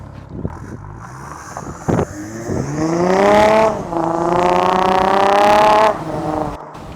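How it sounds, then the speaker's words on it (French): An Audi 3-litre TDI diesel car engine revs up hard and climbs in pitch through first and second gear, loud and close, then drops off as it settles. "à chaque fois ce 3 litres TDI Audi là, c'est... Ça fait un beau bruit."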